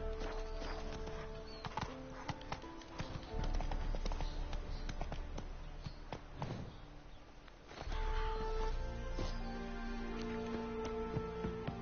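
Horse hooves clip-clop steadily in The Witcher 3: Hearts of Stone, a close, even trotting rhythm that runs the whole stretch over a layer of in-game ambience, with no voices.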